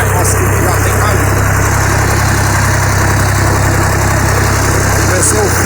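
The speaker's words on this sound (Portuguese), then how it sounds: "Vamos ver se eu filmo lá, eu trabalhando no trator." A Ford tractor engine runs steadily on a rural smallholding, a loud, continuous low rumble with an even mechanical drone throughout and no pauses.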